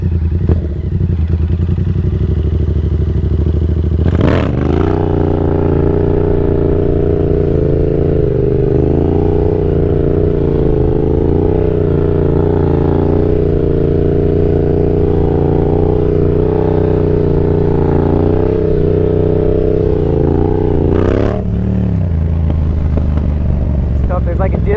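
Yamaha XSR 700 motorcycle engine held at a steady high rev through second gear sit-down wheelies on a road, loud and close, with brief throttle blips near the start and end and a voice talking over it.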